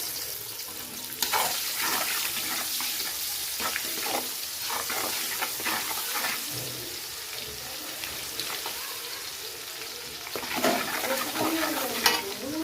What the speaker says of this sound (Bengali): এখানে দিয়ে দিচ্ছি কুচানো পেঁয়াজ